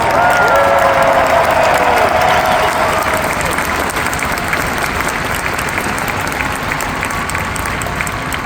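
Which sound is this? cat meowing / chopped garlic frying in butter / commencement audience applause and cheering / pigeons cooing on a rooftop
commencement audience applause and cheering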